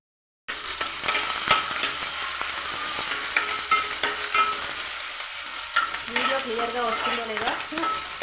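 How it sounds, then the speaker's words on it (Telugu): Curry leaves being stirred and fried in a pan, a steady close sizzle broken by irregular scraping strokes of the spoon, with crackling pops rising toward the end. "వేసేస్తున్నాను కరివేపాకు ఇప్పుడు మనం ఒకసారి కలిపేసుకుందాం"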